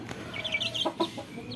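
Young chickens being raised on a farm give soft clucks and high chirps, a short burst of close calls over a low background murmur.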